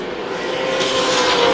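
Race cars roar past on an asphalt racetrack during a World Series of Asphalt event, a loud continuous engine drone that swells slightly as the pack sweeps by, with no talking.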